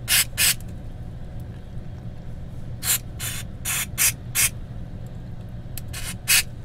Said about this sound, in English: let's get some contact cleaner into the controls here,